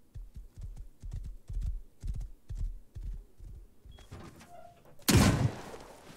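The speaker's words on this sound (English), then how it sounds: "I hear a horse" Hooves clop in a steady rhythm for several seconds in the game Rust, then a sudden loud burst of noise cuts in near the end.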